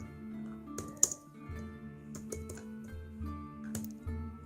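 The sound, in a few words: typing password on computer keyboard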